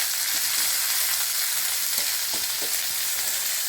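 Chopped onions sizzle and fry in a pan for a leaf thoran, a steady broadband hiss with a few soft stirring scrapes, close and continuous with no talking.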